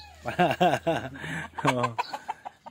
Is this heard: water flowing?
no